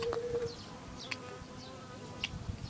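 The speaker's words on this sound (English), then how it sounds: "Now I got a pissed off bee." An agitated Japanese bee buzzes near a dish of sugar water outdoors: a faint, wavering insect drone with a few sharper buzzing passes over a soft background hum.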